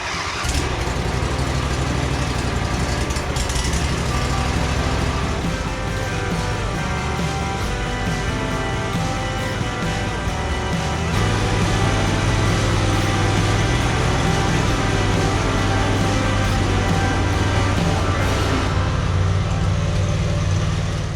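A Briggs gasoline engine on a Husqvarna Z246 zero-turn mower cranks and catches, then runs at a loud, steady idle throughout, with a slight rise in its rumble midway.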